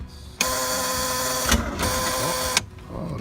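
A boat engine's electric starter cranks after the key is turned, a steady loud mechanical whirring of about two seconds with a brief stutter midway, then cutting off abruptly.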